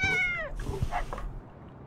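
A cat meows in the video game Little Kitty Big City, a single clear, close meow followed by a few softer short sounds.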